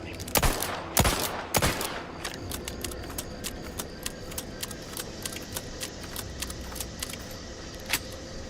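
A gun fires rapidly in The Outer Worlds 2, with a few sharp, loud shots up front followed by a quicker run of lighter, evenly spaced clicks and pops, close and clear with little talking.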